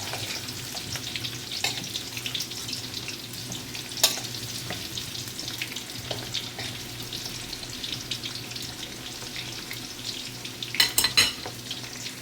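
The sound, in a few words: mixing fish curry with carrots and potatoes in pan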